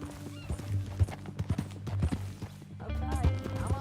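Horse hooves clip-clop at an uneven trot close by in Red Dead Redemption 2, mixed with other game sounds and brief vocal noises.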